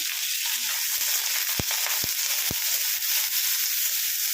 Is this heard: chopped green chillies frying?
yes